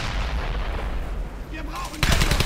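Gunfire in the World War II shooter Brothers in Arms: Hell's Highway, rumbling as a low battle din before a sharp, loud burst of shots near the end.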